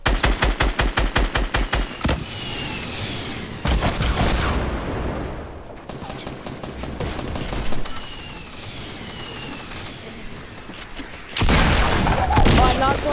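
Bursts of rapid automatic gunfire in the video game Fortnite, squad battle: a fast rattling volley at the start, scattered shots and impacts through the middle, then another loud burst near the end, with a player's voice talking over it.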